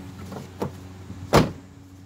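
A car door shut in a vehicle, one solid thump near the end preceded by a softer knock and a faint mechanical whir, fairly close with quiet background hum.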